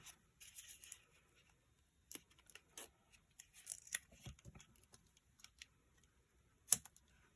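Scissors trimming excess card paper while a melon-themed greeting card is made: sparse, faint snips and crisp rustles, close up and alone, with a sharper cut near the end.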